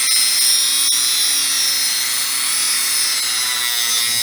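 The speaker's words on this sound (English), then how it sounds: "Grind in the slot." A power grinder cuts a slot in the heel guard of a Yamaha R3 motorcycle, producing a loud, continuous high-pitched whine close by with no break.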